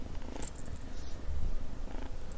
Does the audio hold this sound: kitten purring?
yes